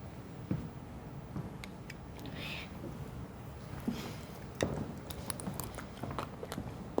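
Close, crisp crunching bites and chewing of pure monosodium glutamate crystals, scattered irregularly across the clip with quiet background between them and no talking.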